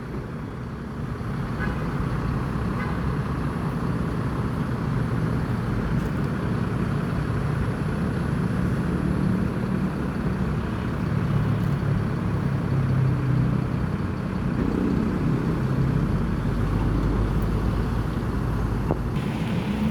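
A red Adi Prima intercity bus on the Jakarta–Palembang route idles at a busy terminal, its low diesel rumble steady and close, with surrounding traffic droning through the scene.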